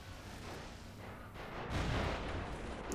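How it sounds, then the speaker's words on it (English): Video game gunfire and shell blasts rumble continuously, building to a heavier burst near the end against a dense battlefield din. "We already hear gunshots going off, shells firing, lots of things going on in the battlefield."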